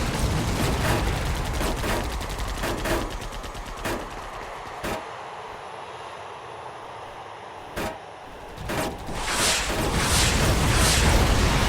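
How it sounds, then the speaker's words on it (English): Enemy gunfire in the Vietnam-era combat flight game Air Conflicts Vietnam: rapid bursts of automatic fire and sharp single shots crack over a constant aircraft engine drone, some loud and near, others spaced apart, with no speech. "Who is shooting at me again?"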